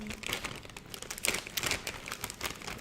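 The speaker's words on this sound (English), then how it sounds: "Because the bag is loud." Potato chip bag crinkling and crumpling close up, a steady run of crisp rustles and crackles with no pauses.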